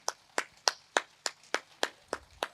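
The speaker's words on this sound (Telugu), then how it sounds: "సో ధ్యానాన్ని గట్టి క్లాప్స్ చేసుకుందాం." Audience applause after a group meditation session at a spiritual gathering, heard as about nine sharp, evenly spaced claps in a steady rhythm, fairly close and clear with little crowd noise.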